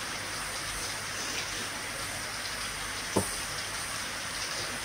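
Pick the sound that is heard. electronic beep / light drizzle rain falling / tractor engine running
light drizzle rain falling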